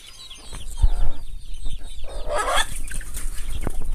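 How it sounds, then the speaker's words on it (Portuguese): Chicks peep and hens cluck close by on a rural farm after heavy rain, a busy mix of high chirps and lower clucks with rustling, no voices. "Os pintinhos aqui."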